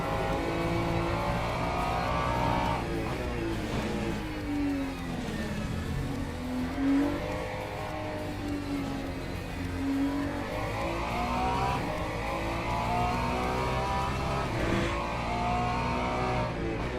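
Mustang race car in the Le Mans Ultimate sim on the Sebring school circuit, its engine droning loud and steady throughout, pitch rising and falling through gear changes and revs, with no talk over it.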